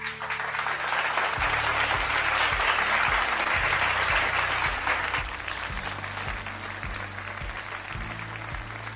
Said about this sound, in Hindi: तो आइए तालियां हो जाए हिमांशु के लिए।